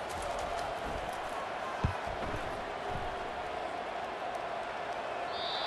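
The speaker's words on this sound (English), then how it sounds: "wow, listen to this crowd noise. This stadium is vibrating" Dense, steady roar of a stadium crowd in a College Football 25 simulation of Ole Miss vs LSU, a continuous wash of noise with one brief thump near the two-second mark.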